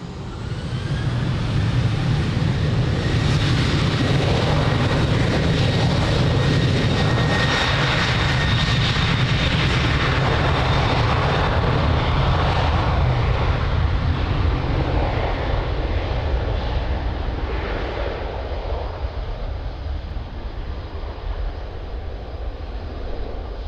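Ryanair jet airliner taking off at Lisbon Airport, a loud sustained engine roar with rising whine that slowly fades as it climbs away, no talk.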